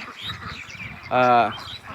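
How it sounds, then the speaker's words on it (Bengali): A single loud Campbell duck quack rings out briefly against a quiet, busy background of ducks eating on a farm. "কিছু হাঁস খাবার খাচ্ছে"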